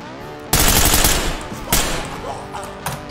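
Rapid gunfire bursts out of the Ready or Not tactical shooter game: a loud, dense volley kicks in abruptly, fades, then a second sharp burst follows, with a smaller shot near the end.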